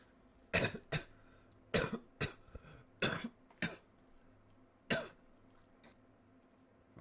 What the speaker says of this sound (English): This cough gotta go.